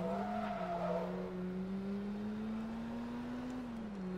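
A Mazda RX-7 or RX-8 rotary engine in the racing game Forza Motorsport 2 holds a high, buzzing whine that climbs gradually through a gear, with brief tire squeal early on and no talking.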